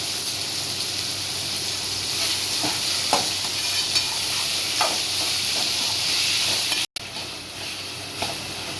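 Tomatoes and salt sauté in a pan for a tamarind yam curry, a continuous close sizzle with occasional stirring clicks and scrapes and a brief dropout near the end.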